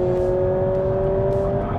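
A Honda Civic with a CVT accelerates, its engine drone holding steady, close and loud, as simulated gear shifts step through the run.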